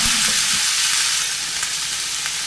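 Pumpkin pieces fry and are stirred in a hot pan for a coconut milk curry, giving a steady, close sizzle with soft scraping movements and no voices.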